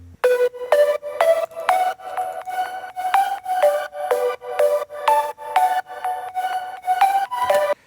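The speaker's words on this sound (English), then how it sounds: "In the second part of the drop we have our lead. It's 3 layers" A three-layer synth lead from the drop of a 90s-style house track plays a steady run of bright, sustained chopped notes, repeating at an even rhythm, close and loud with no voices.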